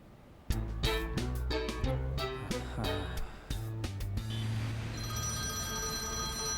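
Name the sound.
telephone ringing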